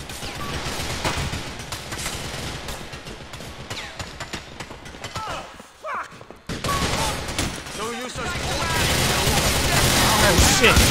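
Sustained gunfire in GTA 4 The Ballad of Gay Tony, dense rapid shots and bursts rolling on through the whole stretch, briefly thinning in the middle, with a voice talking over the shooting.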